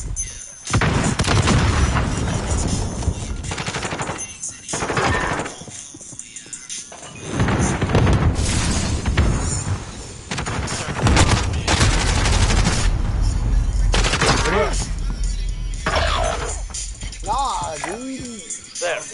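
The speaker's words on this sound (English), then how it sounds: "They're shooting rockets at us, bro." Rockets exploding and rapid gunfire in a shooter video game, loud dense bursts and booms filling most of the stretch with short gaps, while players talk over the action.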